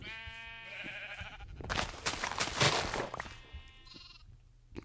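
Sheep bleat in a video game: a wavering bleat opens, a loud noisy burst follows in the middle, and a shorter bleat comes near the end, all fairly close and clear with no talking.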